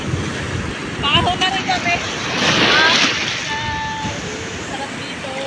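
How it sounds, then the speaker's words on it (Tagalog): Strong ocean surf rolls onto an island shore with gusting wind buffeting the microphone, a steady roar swelling midway while people talk over it. "malakas yung alon"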